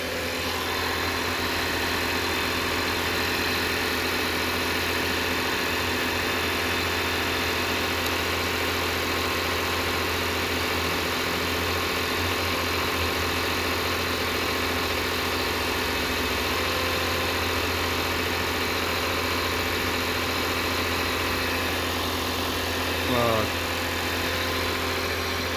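A Lexus 250 engine idles steadily after being replaced, a constant even drone held close and unchanging throughout, with a brief small knock near the end and no talking.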